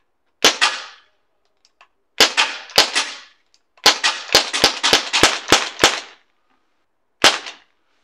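Crosman 1077 air rifle firing in rapid succession, about a dozen loud, close cracks: a few spaced shots, then a quick burst of eight or so, then one final shot after a pause.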